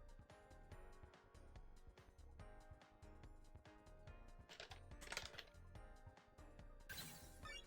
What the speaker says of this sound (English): Furious typing intensifies.